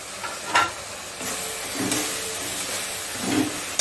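Spices and chili powder hit a hot pan of oil, making a soft, continuous sizzling hiss with a few brief stirring scrapes, close by and fairly quiet.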